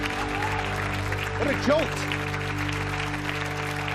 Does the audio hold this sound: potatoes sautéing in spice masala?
no